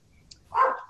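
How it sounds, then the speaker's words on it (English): A single short dog bark sounds in the background during a commission meeting, moderately loud and alone, with no voices heard in the moment. "you can probably hear all the noise in the background and the dogs starting"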